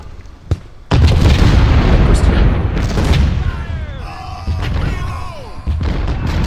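Artillery fire booms in Ultimate General: Civil War during a battle at Fort Potomac: a heavy blast followed by a rumbling spread of explosions, with someone talking over the game sounds.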